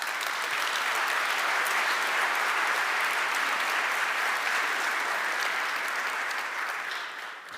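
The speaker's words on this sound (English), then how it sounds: "Let's give him a round of applause." Sustained audience applause fills a hall during the opening keynote of an Angular developer conference, a dense steady clapping wash that holds loud throughout and fades slightly at the end, with no talk over it.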